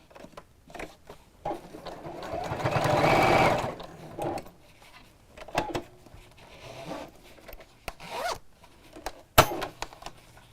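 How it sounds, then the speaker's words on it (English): Domestic sewing machine stitching fabric close to a zip while making a Maddy Caddy organiser, one loud sustained run of stitching followed by shorter bursts and handling noises between pauses, with no talking. "So we'll just keep folding it back, sewing, and then we'll repeat on the opposite side."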